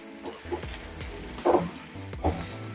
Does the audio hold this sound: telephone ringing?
no